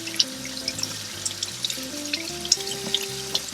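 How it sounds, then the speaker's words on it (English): Raw goat meat is rubbed by hand under running kitchen tap water, giving a continuous splashing rush with small irregular slaps and squelches, heard under soft background music. "we'll rub it under the running water like this to remove any slime"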